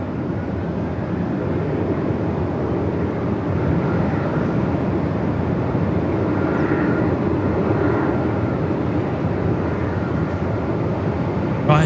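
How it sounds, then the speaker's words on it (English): Qantas flight 37 bound for Singapore takes off in strong wind at Melbourne, a continuous loud engine rumble with gusty noise and no talk. "Qantas 37 off to Singapore."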